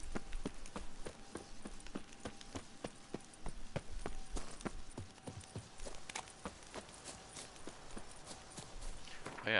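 Steady clip-clop of horse hooves in The Witcher 3, a brisk regular rhythm of close, crisp hoofbeats on a hard surface, continuing throughout under faint background game sound.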